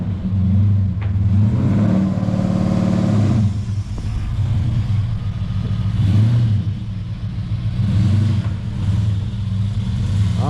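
A 1998 Holden VT Calais with a 5.0L V8 and a failing gearbox drives on the road, its engine note swelling and easing in repeated waves of acceleration, steady and close with a constant low rumble.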